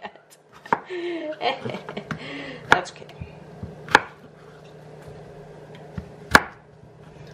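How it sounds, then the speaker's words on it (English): A knife slices a zucchini on a cutting board in a home kitchen, with sharp separate chops at an uneven pace, a few louder strikes among softer ones, and a brief spoken remark in between. "let's give this zucchini a chop"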